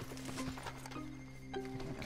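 Horse hooves clip-clopping in Red Dead Redemption 2, a close, quiet rhythmic trot with a brief neigh or whinny woven in, and no talk over it.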